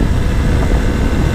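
A Suzuki V-Strom 800 DE motorcycle rides over a rough, bumpy road, giving a brief, steady low engine rumble mixed with wind noise.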